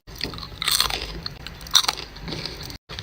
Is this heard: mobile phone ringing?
no